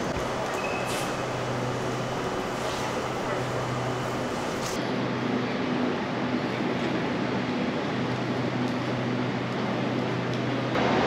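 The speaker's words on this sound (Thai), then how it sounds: "ตอนนี้รถไฟสายสีแดงได้มาเทียบชานชาลากันนะครับ" SRT Red Line electric commuter train pulling into a platform at Rangsit station, a steady broad rumble and hum of the arriving cars filling the whole stretch under ambient station noise.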